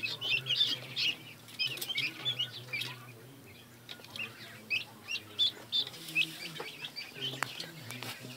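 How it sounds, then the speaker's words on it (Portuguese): Newly hatched chicks from a homemade wooden incubator chirp in quick, high, overlapping peeps, a steady busy chorus close by with a low hum underneath. "Os pintinhos que nasceram aí."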